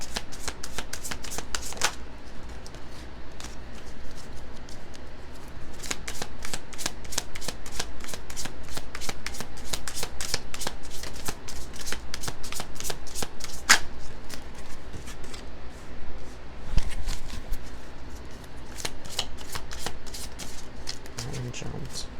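Angel oracle cards are shuffled in rapid crisp bursts of riffling and flicking, repeated near the microphone over about twenty seconds with short pauses between rounds, while a person talks over it.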